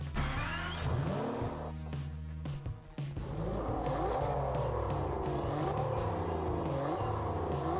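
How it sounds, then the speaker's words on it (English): An Aston Martin DB11 in the racing game Test Drive Unlimited Solar Crown starts up, its engine catching with a roar, then settling into a loud, continuous idle with revs rising and falling, heard alone. "fire up the engine"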